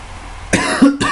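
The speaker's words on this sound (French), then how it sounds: "désolé pour avoir toussé." A single person coughs twice close up, a harsh burst followed by a shorter second cough, with no talking.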